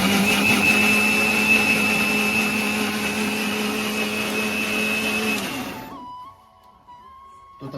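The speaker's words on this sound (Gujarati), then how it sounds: "ડુંગળીની પણ ગ્રેવી કરી દઈશું મિક્સરમાં" Electric mixer grinder blending tomatoes into gravy in a village kitchen, a loud steady whirring motor drone that winds down and stops near the end, leaving a faint hum.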